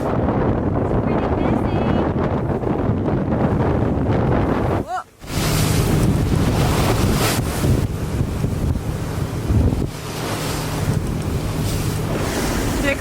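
Strong wind above 30 knots roaring across a sailboat's microphone at sea, with waves rushing steadily throughout, loud and close, and a brief lull midway before the gusts return.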